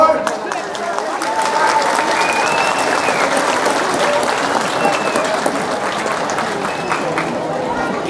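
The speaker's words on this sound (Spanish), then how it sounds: "fuerte el aplauso, por favor" A crowd at the ceremony launching the 2024 school feeding program in San Francisco, Sensenti, bursts into loud, sustained applause from many hands, with scattered voices in the room.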